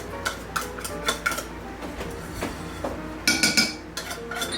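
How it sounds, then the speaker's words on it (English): Chunks of tuna dropped into a kitchen bowl, with light clinks and knocks of a utensil against the dish and faint scraping, heard close and quietly with no talk. "So we will just put the chunks of tuna in here."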